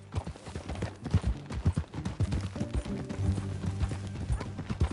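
Steady clip-clop of horse hooves on the ground in Red Dead Redemption 2, a close, rhythmic trot with a faint whinny and quiet background ambience.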